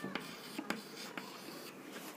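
Chalk or marker writing a short English word on a classroom board, with scattered soft taps and strokes over a steady room hiss, close and quiet.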